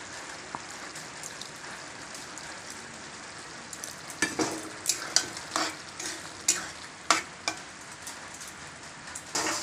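Ground spice paste is stirred into a simmering Bengali potato and pointed gourd curry, a soft bubbling sizzle under repeated spoon scrapes and taps against the pot that grow louder and more regular in the second half.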